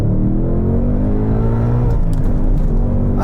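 A 2022 Ford Mustang Mach 1 launches from standstill in race mode, its engine a loud, continuous roar with a low rumble that climbs steadily in pitch and never lets up.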